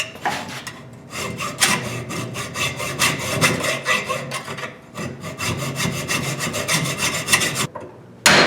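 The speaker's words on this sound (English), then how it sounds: "This hacksaw's older than dirt. Nice old blade." Old hacksaw cutting through a sleeve in rear-end and converter work, with close, loud, rhythmic back-and-forth strokes that pause briefly midway and again near the end.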